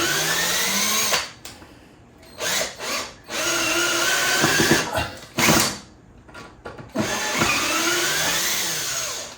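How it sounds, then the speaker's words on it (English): A cordless drill drives a screw into a wall while mounting a venetian blind bracket, whirring in several bursts with short pauses between and a ratcheting buzz, close and loud. "I'm going to put the screw in first before I actually add the bracket. Just run it in and out."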